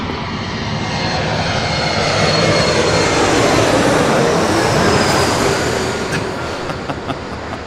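An airplane flies over at LAX airport with a loud, broad jet roar that builds, holds steady and slowly fades, close and continuous with no talk.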